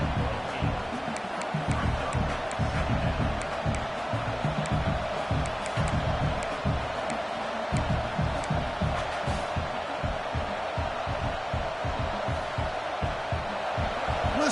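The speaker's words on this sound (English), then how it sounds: "Listen to the crowd energy here in the early going." A dense football stadium crowd at an OU game roars continuously, a loud wash of cheering and shouting voices with rhythmic surges, sustained throughout.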